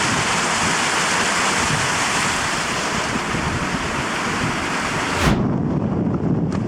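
Loud, steady wind roaring with rain battering on an exposed Welsh mountain ridge near Crib Goch, a continuous broadband rush that stops abruptly near the end, leaving a softer low rumble.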